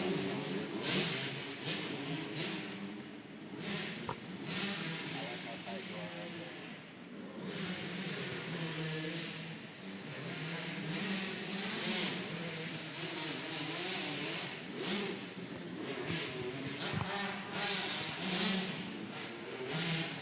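Racing engines of 50cc machines rev and whine continuously at a barn race, high buzzing two-stroke tones rising and falling over crowd ambience, with a faint voice underneath.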